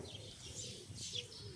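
Bird landing nearby on the ground: a few soft chirps and cooing calls close by, quiet against a faint outdoor background.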